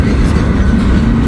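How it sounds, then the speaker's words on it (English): A huge train rolls past close by, a loud, dense low rumble with a continuous roar and no pauses. "A monstrous train. This thing's huge."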